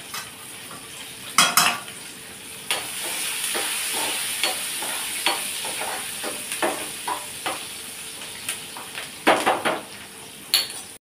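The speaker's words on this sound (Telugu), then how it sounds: "ఇప్పుడు ఇందులోనే మనము ఆనియన్ కూడా వేసుకోవాలి. ఇప్పుడు దీన్ని కలుపుకుందాం." Onions frying in a pan are stirred with a metal utensil, bringing repeated scraping and clinking strokes against the pan over a steady background sizzle and hiss, close and moderately loud.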